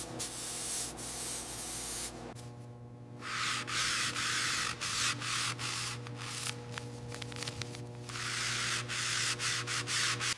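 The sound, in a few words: sanding out marks on car paint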